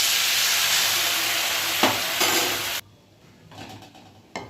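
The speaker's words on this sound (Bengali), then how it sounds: "ডাল এখন টকবক করে ফুটছে।" Lentil dal cooking in a pot after being added to fried spices and ginger, a loud close hissing and sizzling that abruptly quiets into softer bubbling with a few faint clinks, no talk.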